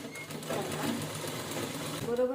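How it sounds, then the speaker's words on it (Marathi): A sewing machine runs steadily while stitching a princess-cut blouse, its continuous close whir filling the whole short stretch, with a voice talking over it. "बरोबर शिलाई व्यवस्थित करून घ्यायची."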